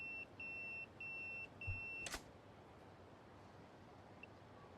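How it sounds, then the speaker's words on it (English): A pager beeping in the video game Yakuza 0, a series of short, clear electronic beeps in a rhythmic pattern, followed by a brief thump and quiet background. "Man, look at this beeper."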